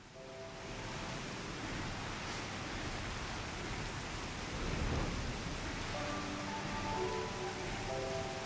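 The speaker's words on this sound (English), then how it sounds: "of course, it's night and raining" Steady rain falls at night in Final Fantasy XIV, a constant soft hiss with a faint low rumble and no voices.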